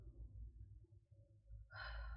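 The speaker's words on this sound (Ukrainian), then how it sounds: "Зробили вдих видих" Quiet nasal breathing during an ujjayi pranayama exercise, a soft drawn inhale followed by a slightly louder airy exhale near the end, close and faint with no talk.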